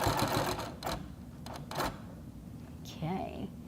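A sewing machine stitches a zipper onto fabric in rapid, rattling bursts that start and stop, heard close up with a steady background hum and some brief voiced sounds near the end.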